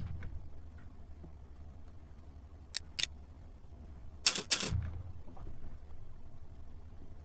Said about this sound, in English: Hold down the Alt key on your keyboard and click on your down arrow.